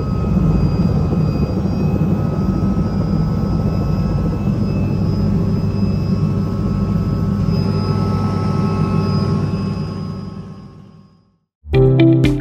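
A charter helicopter flies overhead, a loud, steady engine and rotor roar that holds for about ten seconds, then fades away to near silence before another loud burst starts abruptly at the end.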